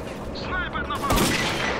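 An SVD sniper rifle fires in S.T.A.L.K.E.R. Clear Sky during a firefight in the ruined city of Limansk, making one loud, sharp crack over the game's ambient noise, with a voice speaking just before it.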